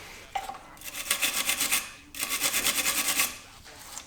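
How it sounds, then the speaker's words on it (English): A wire wheel scrubs corrosion off the oil filter housing of a Mercedes G500 W463, making close, rhythmic raspy scraping in two bursts of quick repeated strokes separated by a short pause. "I'm going to take a wire wheel and clean this up a little bit while I'm here"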